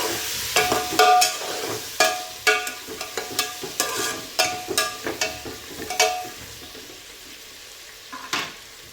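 Khandeshi masala rice being sautéed and stirred in a pan, with a soft sizzle under a series of sharp, irregular scraping and clinking strokes of a spoon against the metal.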